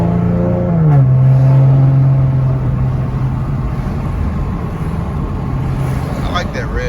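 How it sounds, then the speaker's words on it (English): A 2014 Mustang fitted with a Roush axleback exhaust drops from third to second, its engine note stepping down in a steady deep drone that carries on loudly throughout. "Little third to second downshift."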